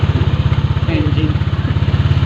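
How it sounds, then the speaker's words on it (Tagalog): A Honda Click 150i scooter engine idles close by with a steady, rapid low thrum and a regular pulsing rhythm throughout, with faint voices over it. "Engine."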